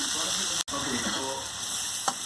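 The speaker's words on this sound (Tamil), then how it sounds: "இப்போ நல்லா வெங்காயம் வதங்கிருச்சுங்க" Sliced onions frying in a pan for a blood stir-fry dish, a steady close sizzle with scraping stirs, broken by one brief dropout and a sharp clink near the end.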